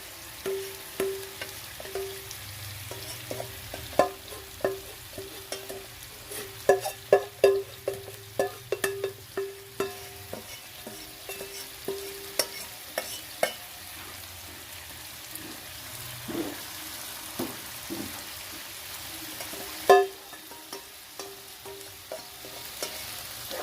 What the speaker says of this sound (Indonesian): Kita aduk-aduk sampai merata.